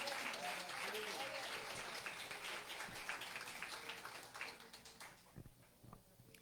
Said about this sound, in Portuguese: Dá uma linda salva de palmas e glorifica o nome do Senhor.